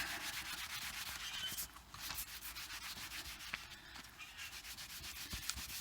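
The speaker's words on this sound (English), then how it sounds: "briskly rub the handle, and it softens the wax up." An old towel briskly rubs a waxed axe handle, giving a steady, close, continuous rough rubbing with a short pause partway through and no talk.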